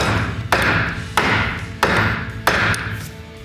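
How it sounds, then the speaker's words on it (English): A mallet taps a piece into place with four evenly spaced thuds, close and firm, each dying away before the next blow. "Go ahead and take a mallet, and you want to tap each side in."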